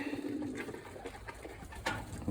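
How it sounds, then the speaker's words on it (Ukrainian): Pigeons coo softly in a dovecote, low rolling calls repeating under faint background noise, close and fairly quiet, with a brief louder rustle near the end. "Дивіться, яке голубенятко."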